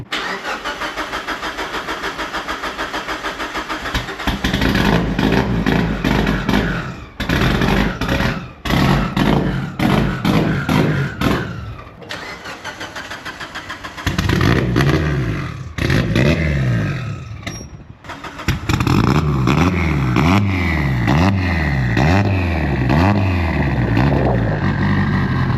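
A Mitsubishi Evo 8 fitted with large injectors and big cams cranks and fires, then runs loud and close, revving repeatedly in uneven bursts between rough idle stretches as it warms up.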